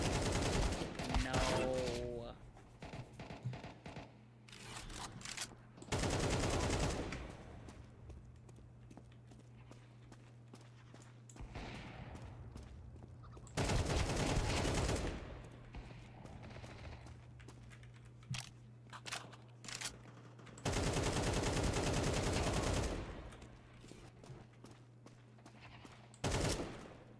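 Counter-Strike 2 gameplay with several loud bursts of rapid gunfire separated by quieter stretches, game noise and clicking continuing between the volleys.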